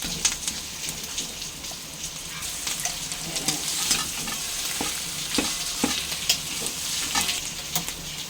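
Beetroot chutney fries in a pan with a steady bright sizzle, while a utensil stirs it through with scattered scraping clicks over roughly eight seconds; no one speaks.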